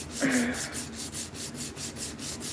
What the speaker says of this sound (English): Now our sander, our belt sander was at 80 grit